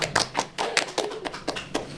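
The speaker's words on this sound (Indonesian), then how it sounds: "Tepuk tangan." A few people at a vocational high school e-learning interview session in Samarinda clap, producing a short run of separate, fairly close hand claps in a loose, uneven rhythm.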